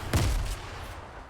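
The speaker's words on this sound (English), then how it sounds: "Now there's nades coming in." A grenade explodes in the Fortnite video game, one loud, booming blast with a short rumbling tail.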